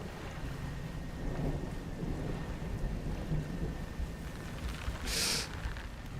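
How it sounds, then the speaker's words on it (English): A lightning storm in the fishing video game Dredge, with a constant rumble of thunder and rain, a loud crack flaring near the end, and no talking. "Cheeky lightning. I don't think I've ever seen that in this game before."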